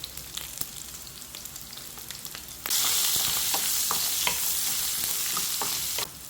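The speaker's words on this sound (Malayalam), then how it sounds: "തേങ്ങ ഇതുപോലെ ഒന്ന് മൂത്ത് വരുന്നുണ്ട്" Grated coconut with a little salt and turmeric frying in a pan for koorkka mezhukkupuratti, a soft crackle that jumps to a loud, bright, steady sizzle partway through, with occasional stirring scrapes.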